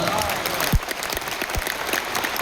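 Audience applause at a talk session, a dense steady wash of many hands clapping close by, with a few sharper individual claps standing out.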